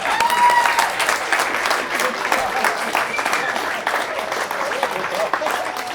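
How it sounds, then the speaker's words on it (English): Comedy club audience applauding a stand-up comedian, dense sustained clapping at a steady moderate level for several seconds, with a voice speaking faintly over it. "Give her a round of applause."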